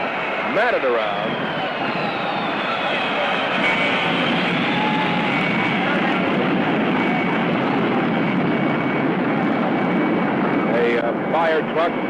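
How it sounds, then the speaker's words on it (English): Big jet airliner serving as Air Force One, carrying President and Mrs. Kennedy, arriving at an airfield: a steady broad roar of jet engines fills the whole stretch, with a commentator's voice talking over it. "Here comes the big jet in."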